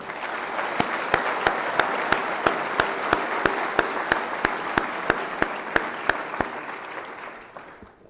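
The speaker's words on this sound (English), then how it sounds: "So give those guys a round of applause." At a men's basketball team banquet, an audience applauds the players with even, sustained clapping, while a few sharp, regularly spaced claps stand out above the crowd before the sound tapers off at the end.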